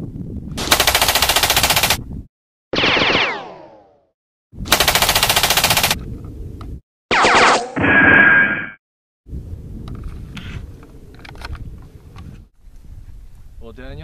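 M4 rifle firing loud bursts at a target outdoors, several separate sharp volleys separated by gaps, with shouted voices and lower rumbling noise between them.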